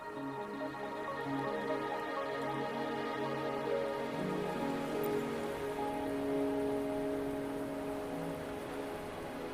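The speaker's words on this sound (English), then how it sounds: "Are you trapped here by the rain?" Steady rain falling on a surface in the video game Wuthering Waves, a continuous even patter under a layered ambient tone, with no voices.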